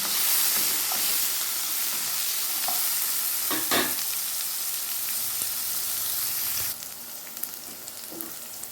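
Onion and freshly cut coconut frying in a pan for a curry leaf chutney, a steady close sizzle with scraping stirring strokes, easing down to a quieter crackle near the end.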